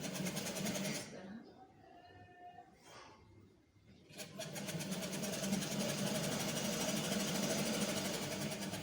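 A sewing machine runs in a fast, whirring rattle while stitching a folded fabric strip onto a child's kurta. It pauses for a few seconds, then resumes steadily, heard close.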